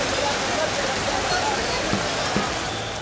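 Heavy rain with strong winds pours down on an outdoor political rally ground, a steady dense hiss filling the air with no talk over it.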